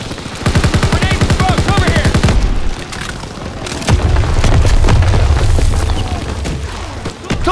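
A grenade blast and rapid gunfire ring out in a World War II battle in the game Call of Duty WWII, a dense rattle of shots giving way to a loud, rumbling boom with lingering roar, close and heavy.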